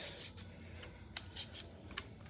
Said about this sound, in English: Over here, I have 8 small russet potatoes, or you can use 4 large russet potatoes. So we're going to peel them